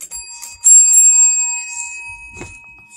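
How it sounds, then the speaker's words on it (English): A dog rings a bicycle-style bell during a trick-training session, giving a bright metallic ding that rings on and decays over about two seconds, with a fainter thump near the end. "Ring the bell."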